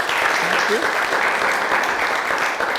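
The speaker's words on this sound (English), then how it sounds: "A round of applause for him." An audience applauds a speaker at a recorded panel discussion on mental health in Nigeria, a dense, steady roar of clapping filling the whole moment, with a brief spoken thanks under it.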